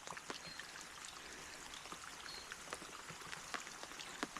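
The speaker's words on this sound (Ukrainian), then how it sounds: "Ну що, чекаємо, поки стихне дощ." Steady rain falling outdoors at a fishing spot, a soft even hiss with scattered sharp drops pattering nearby, faint and with no talk.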